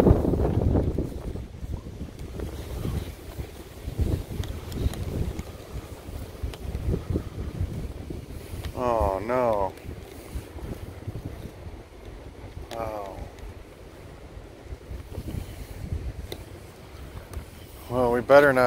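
Strong wind blowing through cemetery trees, a steady gusty roar buffeting the microphone and swelling and easing over time, with a person talking intermittently over it.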